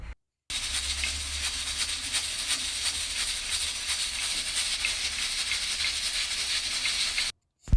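A pressure cooker hisses steam continuously while spinach and mutton cook inside, a loud, steady rushing jet with a faint low rumble beneath, cutting in abruptly and stopping just as suddenly seven seconds later.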